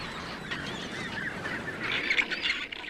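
Chinstrap penguins give harsh, braying squawks that rise and fall over about three seconds, a fairly steady colony chorus with a louder burst near the end and no speech.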